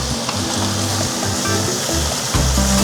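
Steady, loud sizzling of chicken searing in a hot pot, fat rendering, a continuous hiss with a low hum underneath and no talking.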